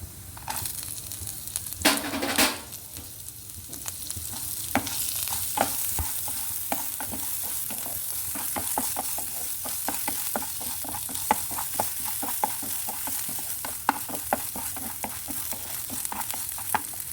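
Ginger pieces frying in hot oil for a chutney, with a steady crackling sizzle and repeated scraping stirs of a spatula against the pan throughout, close and clear with no talk.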